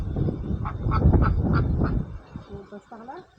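Ducks quack in a series of nasal calls over a busy outdoor background, with human voices talking alongside them, and a few more calls near the end.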